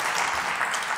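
Applause from a seated audience at a public debate day in Évreux: a brief, steady wash of clapping with no voices over it.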